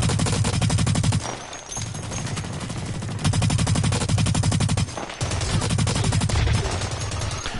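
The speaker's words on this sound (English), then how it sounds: "I've just sprayed God knows how many bullets in this guy" Sustained automatic machine-gun fire from a PS4 shooter video game rattles loudly in rapid continuous bursts, with two brief pauses between long sprays and no talking.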